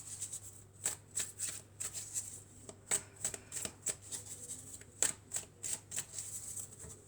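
A deck of tarot cards is shuffled up close, a run of crisp riffling bursts and soft flicks in an uneven rhythm, fairly quiet and without any speech.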